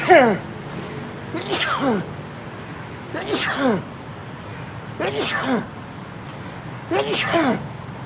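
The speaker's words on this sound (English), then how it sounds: "Please let me sneeze." A series of five sharp, forceful sneezes spaced about two seconds apart, each with a drawn-in breath before it, close to the microphone.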